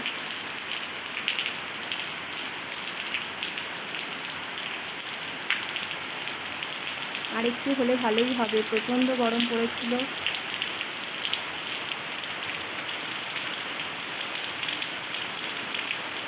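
Heavy rain drums down in a loud, constant hiss of drops on surfaces close at hand; midway someone speaks briefly over the downpour, which continues evenly throughout.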